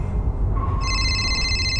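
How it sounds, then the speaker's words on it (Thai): A mobile phone on a table rings in a quiet room at midnight. After a short hush, a bright electronic ringtone starts and holds steady tones nearby. "มือถือบนโต๊ะ สั่นขึ้นมาเอง พร้อมเสียงลิงโทนดังสะท้อนในห้องเงียบ"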